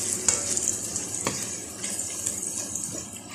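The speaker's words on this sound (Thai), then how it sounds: "เดี๋ยวเราก็จะใส่ พริกนะครับพริกแห้ง คั่วจนให้หอมเลยครับ" Lemongrass and dried chilies stir-fried in a pan for pork belly with lemongrass: a steady close sizzle with occasional scraping and clicking strokes of the spatula.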